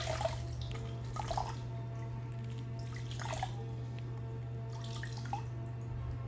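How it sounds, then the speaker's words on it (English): Wet socks being wrung out, water splattering and dripping in several separate bursts over a steady low electrical hum, moderately close. "let's wring them out"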